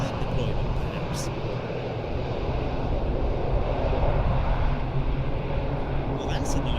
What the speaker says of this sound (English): Perfect approach for this really nasty crosswind. And it's a Slovenian LEP 410.